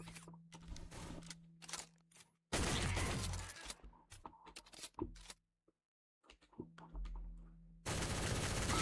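Gunfire in a first-person shooter game crackles in loud, dense bursts of shots, broken by brief lulls and one near-silent gap before the shooting resumes.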